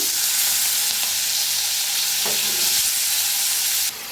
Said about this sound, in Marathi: बटाटू छान असं भाजून घेऊया